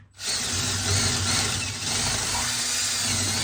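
A power tool deburs the end of a battery cable for a solar power system. A loud, steady grinding whir starts abruptly and runs without a break for over three seconds, with no talking.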